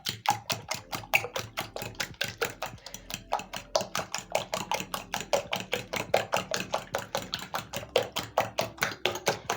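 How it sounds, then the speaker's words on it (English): A fork whisks eggs with seasoning for kid-friendly egg muffins, producing a fast, steady run of close, crisp clicks against the bowl, evenly rhythmic for the whole stretch with no talking. "Using a fork, I'm going to whisk in my seasoning until well combined."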